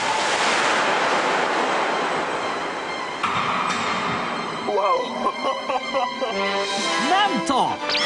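Water column about four metres high bursting up in a wave tank at a maritime research institute, simulating a meteorite striking the sea: a loud rushing roar that fades, then people talk excitedly over it.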